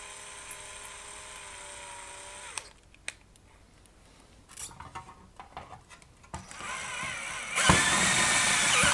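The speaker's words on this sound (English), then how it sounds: "Got a step drill." A step drill bores out a hole in a metal tube-socket chassis, giving a whining, grinding drill sound in short bursts with pauses, ending in a louder sustained cutting stretch near the end.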